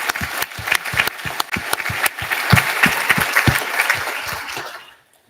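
An audience applauding at a governor's announcement event, many close sharp claps building into a sustained loud round that tapers off and ends abruptly near the end.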